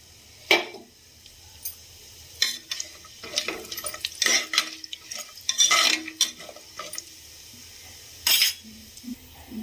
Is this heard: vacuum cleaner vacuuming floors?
no